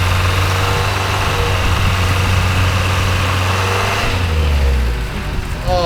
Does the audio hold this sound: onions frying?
no